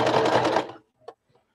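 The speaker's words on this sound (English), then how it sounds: "Start sewing and make sure to backstitch." A sewing machine stitches fabric pieces for a bag in a short, fast whirring burst lasting under a second, then stops, followed by a faint click in near silence.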